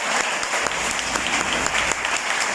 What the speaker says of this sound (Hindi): सर के लिए एक बार जोरदार तालियां होगा।